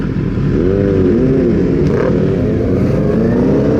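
A motorcycle engine during a group road ride, a loud, steady, close-up drone that shifts slightly in pitch as it rolls along, with no talking over it.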